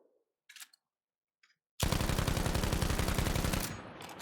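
Rapid automatic fire from a 20-round magazine gun in Battlefield V, a sustained loud burst of about two seconds after a few faint clicks, ending in a brief ringing tail.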